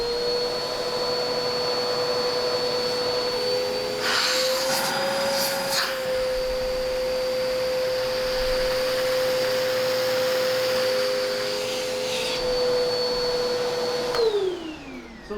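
A Bissell CleanView Swivel Pet bagless vacuum cleaner with its hose attached runs steadily at close range, a loud constant motor whine with shifting suction noise as the hose moves, then powers down at the end.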